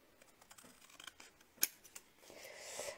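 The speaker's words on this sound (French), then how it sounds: "Et vous coupez avec votre ciseau ou votre coup de papier." Scissors cut through paper card for a handmade card: quiet rustling, then one crisp snip near the middle, close and soft, with no talking.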